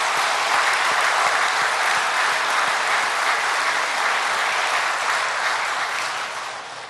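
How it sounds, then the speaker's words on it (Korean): A church congregation at an evening revival service applauds the choir, a dense steady roar of many hands clapping that fills the space and fades slightly at the end. "우리 다시 한번 박수해 드립시다."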